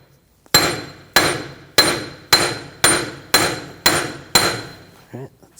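Eight sharp metallic hammer blows strike a punch to loosen a 2000-2006 BMW X5 front CV axle from its hub, each ringing briefly and spaced evenly at close range, with a small rattle after the last.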